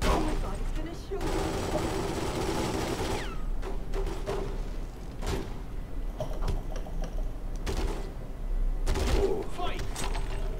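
Gunfire in the Godfather 2 video game, bursts of rapid shots crackling over a busy mix with shouting voices, loud bangs clustered in the opening seconds and sharper cracks scattered later.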